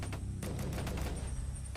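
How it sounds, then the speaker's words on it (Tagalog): A fusillade of gunshots goes off in rapid, overlapping bursts, harsh cracks over a dense rumbling background, sounding somewhat distant and continuous throughout. "Bakit ang daming putok nito?"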